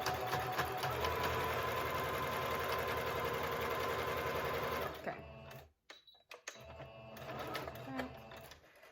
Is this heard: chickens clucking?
no